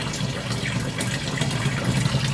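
Water pours steadily into a washing machine tub during a rinse, a loud, continuous broadband rush of running water filling the drum, close by and with no talking over it.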